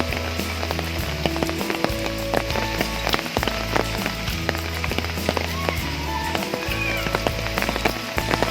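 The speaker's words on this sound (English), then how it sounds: "in no time the full place got covered with clouds and it started raining" Steady monsoon rain falls and patters at Matheran hill station under thick cloud, a dense constant wash with scattered drops, and no talk over it.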